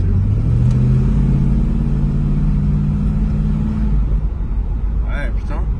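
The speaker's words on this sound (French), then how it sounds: "Tu crois que je peux accélérer un peu?" A passenger car's mid-range engine rumbles steadily as the driver pushes the accelerator, a sustained revving drone lasting about four seconds before easing off, with a brief higher whine near the end.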